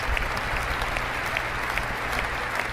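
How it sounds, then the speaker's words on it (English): Sustained crowd applause at a presidential speech on energy, a dense steady wash of clapping filling the whole stretch with no voices on top. "you see a lot of the applause from the crowd"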